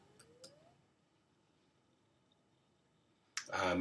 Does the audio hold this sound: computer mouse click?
yes